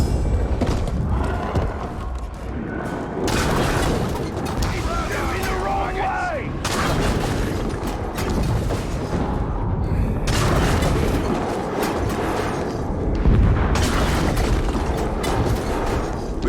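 Siege beast being destroyed in Shadow of War, heavy booms, thuds and mechanical crashing in repeated waves over a long stretch of loud battle noise, with voices speaking at times.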